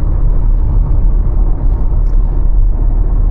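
A car cruises along the road on a trip toward Maithon, heard from inside as a loud, constant low rumble of tyres and engine with no talk.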